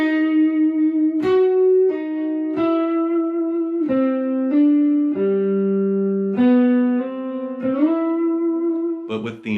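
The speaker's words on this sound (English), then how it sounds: "they're using the Ebow and they're playing this melody" Sustained, smoothly swelling electric guitar notes played with an EBow form a slow melody, each tone gliding into the next with no picked attack.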